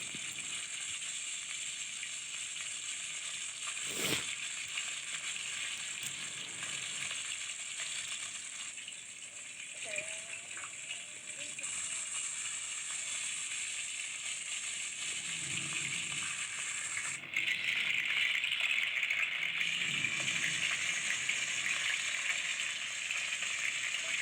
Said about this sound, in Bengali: তেল গরম হয়ে গেলে নুন হলুদ দিয়ে মাখিয়ে রাখা মাছগুলো একে একে ভেজে নিতে হবে।